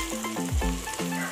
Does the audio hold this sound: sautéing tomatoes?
yes